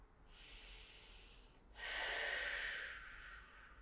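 One slow, breathy inhale followed by a stronger, louder exhale during a yoga session, close and alone.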